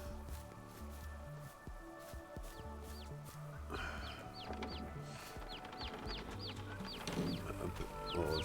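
Chickens in a farm coop in the Farming Simulator 22 video game cluck in repeated short calls over a steady background hum, at moderate loudness and with no talking.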